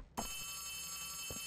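A telephone rings inside the counselor's office in the horror video game Poppy Playtime Chapter 3, giving two short rings about a second apart over a steady electronic hum.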